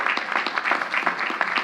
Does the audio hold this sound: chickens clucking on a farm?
no